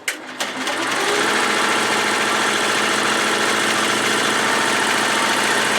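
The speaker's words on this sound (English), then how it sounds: "now we are going to stitch the placement line that will be holding down the top of our liner" An embroidery machine stitches a placement line on a bag liner, starting with a few clicks and then running as a loud, steady, fast mechanical whir that continues unbroken to the end.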